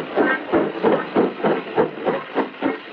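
Rhythmic chuffing pulses of a moving train, evenly spaced about every third of a second, loud and steady like a carriage interior with no talk.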